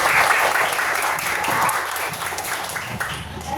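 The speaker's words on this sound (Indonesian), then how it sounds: "Tepuk tangan buat kita semua." A group in a classroom lesson claps together in a brief, dense burst of applause that holds fairly steady for a few seconds.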